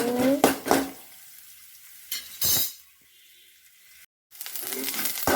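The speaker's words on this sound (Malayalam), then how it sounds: "നല്ലോണം കടുക് മൂട്ടി വരട്ടെ" Mustard seeds spluttering in hot coconut oil in a pan, with crackling bursts and sizzling, plus a few clinks of a utensil against the pan, close by.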